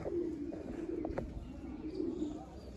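Pigeons coo softly in a rolling, repeated low murmur inside a coop, faint and close, with a few light taps and rustles between calls.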